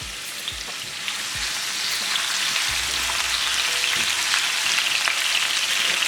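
Spring onions hit hot oil in a frying pan for a mutton keema dish, with a loud, dense sizzle that swells and then holds steady, crackling up close with no talking.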